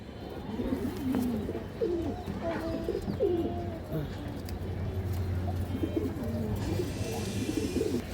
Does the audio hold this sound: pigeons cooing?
yes